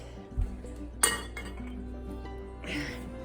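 A lid comes off a hot bread baking pot with a sharp metallic clink, then softer clatter and a brief hiss, all quiet and close.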